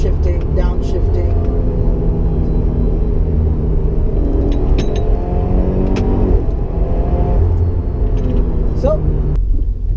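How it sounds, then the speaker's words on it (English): 2015-2017 Subaru WRX with a CVT transmission driving and running through quick shifts and downshifts, a loud, constant engine rumble whose pitch steps up and down with each ratio change, heard from inside the car. "I'm shifting, and look how quick it is. It's just really on point. It shifts really quickly."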